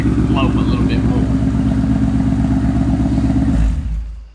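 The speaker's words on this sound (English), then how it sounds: "It's a pretty smooth idle." A car's engine idles through a straight-pipe exhaust, a loud, smooth, steady low rumble with regular pulsing that cuts off near the end, while someone talks over it.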